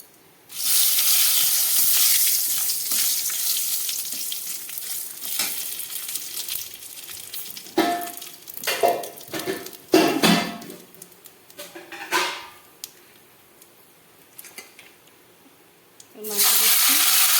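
Cumin seeds with a bay leaf sizzle in hot oil for a homemade desi chicken dish, a loud hissing fry that surges and fades in bursts with stirring, then drops quiet before flaring again at the end.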